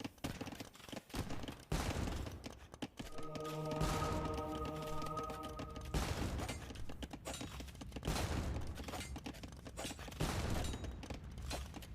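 Bursts of gunpowder unit gunfire in Age of Empires, a rapid crackling fusillade of overlapping musket shots, fairly loud and continuous, with a brief tonal game alert ringing through the middle.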